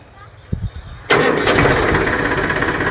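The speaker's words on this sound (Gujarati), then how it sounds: "આપણે માતાજીનું નામ લઈને મારી લીધો ટ્રેક્ટરને સ્લેપ." A tractor engine on a cold day cranks briefly, then catches and settles into a loud, steady close running rumble.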